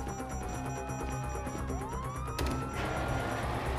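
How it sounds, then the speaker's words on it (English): A police siren in Grand Theft Auto V wails continuously, its pitch sweeping up and down, loud and close over a busy background of game noise and low rumble. "You hear that? Sirens!"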